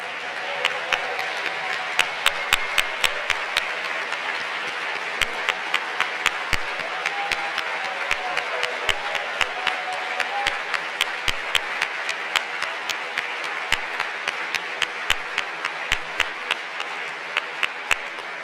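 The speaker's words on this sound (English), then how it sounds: "Can you please stand so we can give you another round of applause?" Alumni from the class of 76 receive a sustained round of audience applause at a university reunion gathering, dense steady clapping filling the hall throughout with sharp individual claps standing out near the front.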